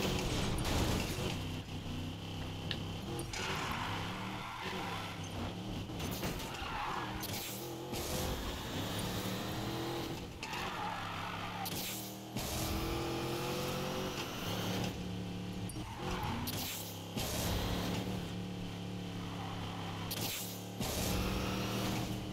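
A car engine in the Need for Speed Payback racing game revs loudly in repeated surges, climbing through the gears with brief drops between accelerations. The sound stays close and powerful throughout, with no voices.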